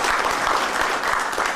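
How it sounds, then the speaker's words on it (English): Applause from an audience at a luncheon for keynote speakers, dense broadband clapping that holds steady and fills the room for the whole moment, with no speech over it. "So please join me in giving both of our keynote speakers another round of applause."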